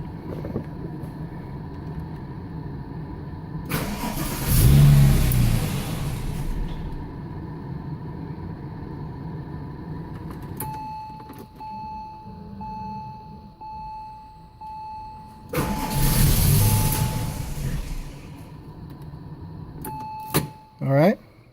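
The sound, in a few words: car engine cranking over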